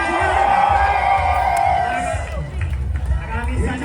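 A large crowd at a civic street parade roars and cheers loudly with whoops and shouts, a dense sustained swell that eases slightly toward the end, with an announcer's voice mixed in.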